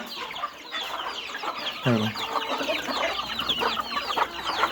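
Several native desi hens cluck and chatter close by in a busy, overlapping flurry, with one louder squawk near the middle.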